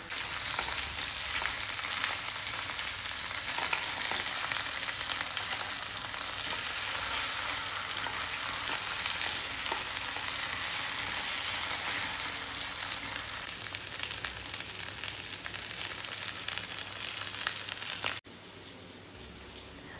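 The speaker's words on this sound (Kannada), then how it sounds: "ಇದು ನಿಧಾನಕ್ಕೆ ಫ್ರೈ ಆಗಲಿ, 2 ಸೈಡ್ ಕೂಡ ಫ್ರೈ ಮಾಡಿದರೆ ಆಯಿತು." Masala-stuffed bangude (mackerel) fish frying in a pan, a close, continuous crackling sizzle of hot oil that holds steady for almost twenty seconds, then drops to a quieter sizzle near the end.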